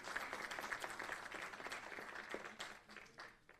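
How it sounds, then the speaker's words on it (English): Audience applause at a live Chandigarh stage event, a dense steady round of clapping that fills the whole stretch at moderate level, with a few sharper individual claps near the end. "Your round of claps will keep the show alive."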